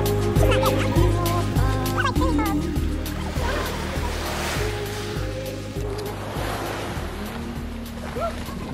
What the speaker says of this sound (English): now we're out at the beach